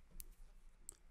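Two short, crisp computer mouse clicks, close and quiet, spaced a little under a second apart over faint background hiss, with no voices.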